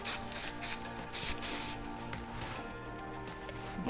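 Several short hissing bursts of an aerosol hairspray close by, a quick rhythmic series of sprays followed by quiet.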